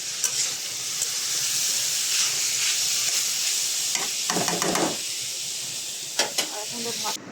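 Vegetable bhaji fries in a pan with a steady bright sizzle and hiss, punctuated by a few clinks and scraping stirs, with brief speech partway through.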